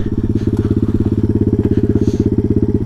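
A pit bike engine chugs close by with a rapid, even firing pulse as the bike rolls forward a short way, steady throughout with no voices.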